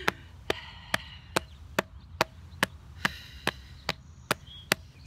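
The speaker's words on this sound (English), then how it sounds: "You want me to tap my intestines?" Fingers tapping on a person's abdomen in a steady, even rhythm, about a dozen crisp, close taps spaced roughly half a second apart against a quiet background.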